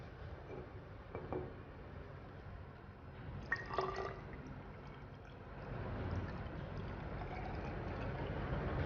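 Water pours and trickles into a graduated cylinder during a lab practical, with faint dripping and splashing that builds into a steadier filling sound toward the end.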